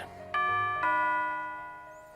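A two-tone doorbell chime rings inside the visual novel game Nekopara Vol. 1, two bright ding-dong strikes whose tones linger and fade slowly, heard alone without voices.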